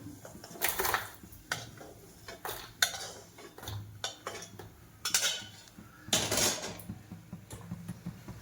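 Roasted turmeric and whole spices being scooped out of a pan, with irregular metallic scrapes, clinks and taps of a utensil against the pan, some louder bursts among quieter rustling, no voices.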